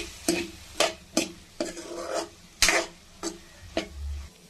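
Cabbage, carrot and potato are stirred as they fry in a pan. About nine distinct scraping strokes sound at an uneven rhythm over a quieter sizzle.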